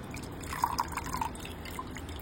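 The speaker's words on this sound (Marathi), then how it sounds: "पाणी निथळत ठेवायचं।" Water drips from freshly washed leafy greens left to drain, a handful of small, close drops falling irregularly over a low background hiss.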